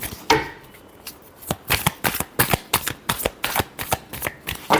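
Tarot cards riffled and shuffled by hand in a quick run of crisp, close slaps and flutters, about a dozen bursts in steady rhythm with no voice.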